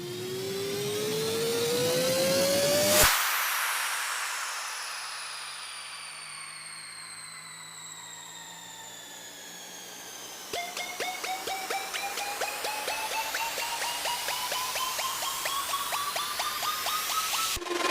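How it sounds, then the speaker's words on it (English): Synthesized EDM risers and filter sweeps: a long rising tone climbs to a hit, followed by falling sweeps that drop away, then a new set of rhythmic pulsing layers that rise again toward the end. "I added some risers, down filters, up filters as well, so they sound like this."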